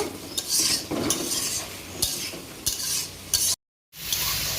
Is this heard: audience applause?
no